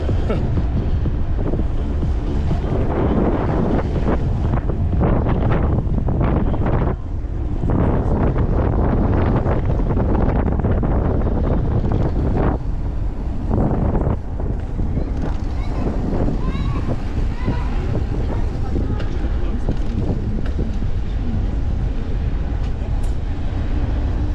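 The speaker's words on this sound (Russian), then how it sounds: "Встречный ветер фигачит." A strong headwind roars and buffets against the microphone during a spring bike ride along the Crimean coast, a loud continuous rushing gust noise with intermittent speech underneath.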